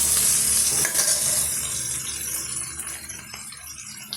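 Onions sauté over a high flame, giving a close, steady sizzle that fades slightly over a few seconds, with occasional soft scrapes and stirs of a spatula in the pan and no talk.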